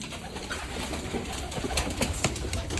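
Domestic pigeons cooing softly nearby in a loft with young birds, low repeated coos over a steady background hum and a few sharp rustles.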